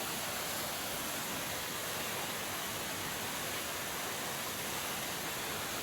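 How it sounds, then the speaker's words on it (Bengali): Pangthumai, a stepped waterfall among large boulders in Meghalaya, roaring as a constant broad wash of rushing water with no breaks and no voices. "আর এই ঝর্ণাটা স্টেপ বাই স্টেপ।"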